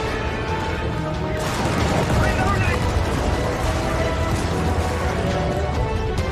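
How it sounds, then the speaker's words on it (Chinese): Dense, continuous rumbling blasts and explosions from the video game Helldivers fill the scene, a thick roar of in-game combat with voices talking over it. "他附近就直接爆炸了"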